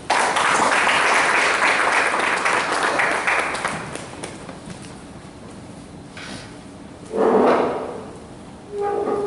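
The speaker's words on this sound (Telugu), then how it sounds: "ప్రభువుకి మహిమపరుస్తూ మనం చప్పట్లు పెడదాం." A church congregation at GGM Church in Singapore breaks into loud, dense applause that holds for several seconds before fading into room murmur, with a couple of brief knocking sounds afterward.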